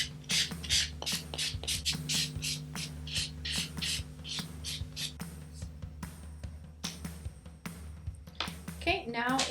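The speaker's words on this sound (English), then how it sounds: "So take your buffer, start buffing." Nails being buffed with a hand nail buffer: quick, rhythmic rasping strokes, close and fairly quiet, in repeated bursts under a soft voice.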